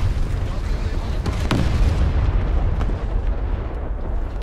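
A tank cannon fires in War Thunder ground battle, a heavy boom with a sharp crack around mid-clip over continuous rumbling battle noise.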